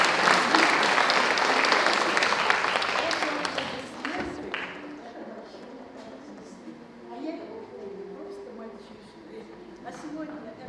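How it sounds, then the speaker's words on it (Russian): Applause from an audience at an accordion and bayan festival, loud at first, then fading to scattered clapping and murmuring crowd noise. "аплодисменты Анне Михайловне Кац."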